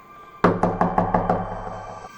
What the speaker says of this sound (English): There it was again, a slow, repeated knocking.